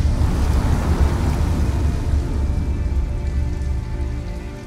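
Heavy rain pours down in Detroit: Become Human, a dense steady roar of drops hitting surfaces with a deep low rumble, loud and continuous throughout.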